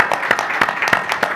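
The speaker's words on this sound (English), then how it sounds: "Let's give a round of applause for our panelists." An audience claps for the panelists after a panel discussion on Black men, the tech industry and DEI, a short burst of steady, dense applause with scattered sharper claps.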